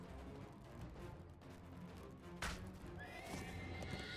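A horse neighs and its hooves clip-clop in the video game Dungeons & Dragons Online, with a sharp whinny standing out over steady outdoor game ambience.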